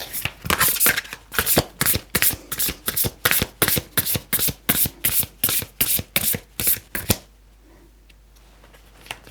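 A deck of cards being shuffled up close, with quick riffling bursts repeating steadily for several seconds before falling quiet.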